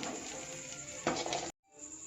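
Garlic sizzles and crackles steadily in hot oil as it fries to golden brown, a dense close hiss that cuts off abruptly into brief silence before the frying sound resumes more quietly.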